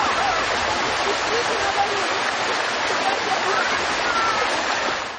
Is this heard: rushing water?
yes